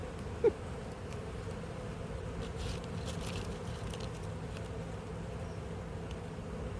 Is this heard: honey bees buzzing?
yes